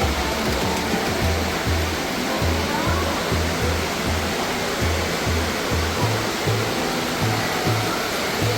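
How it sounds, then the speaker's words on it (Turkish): A loud, continuous rush of falling water from the indoor waterfall in Dubai Mall fills the space, steady and close, with a faint rhythmic low thumping beneath it. "Bu da meşhur meşhur şelalesi."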